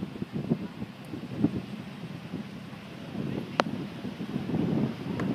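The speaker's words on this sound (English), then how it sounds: "Beach is getting a little windy, as you can tell" Gusty wind buffets the microphone on a beach in Del Rey, Florida, a steady low rumble with surging gusts and faint surf underneath, heard alone.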